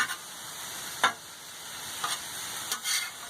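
Steak basted with sauce cooks on a grill outdoors, a soft continuous sizzle with a few brief louder crackles and spits over the short stretch.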